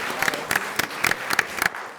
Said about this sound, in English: How about a round of applause for both teams?